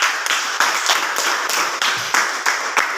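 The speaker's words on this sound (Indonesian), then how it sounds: "Tepuk tangan untuk Susan" Lively applause from a classroom audience after a student presentation, a steady burst of many hands clapping close by for a few seconds.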